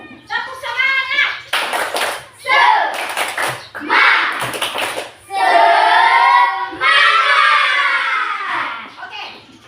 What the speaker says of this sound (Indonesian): Kita tepuk semangat satu kali lagi dulu nih.